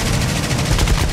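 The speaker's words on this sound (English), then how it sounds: "I shoot one of these guys down" Rapid automatic fire from an aircraft's guns in the War Thunder flight combat game, a dense continuous burst of loud gunfire lasting the whole second without pause.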